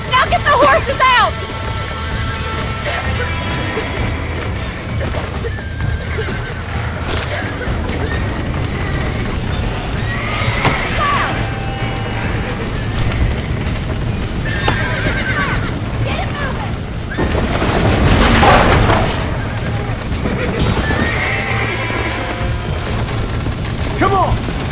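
Several loud horse neighs ring out amid clattering hooves and mechanical rattling, with people shouting over the commotion, in the video game Red Dead Redemption.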